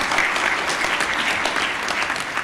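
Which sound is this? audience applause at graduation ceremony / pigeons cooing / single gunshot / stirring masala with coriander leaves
audience applause at graduation ceremony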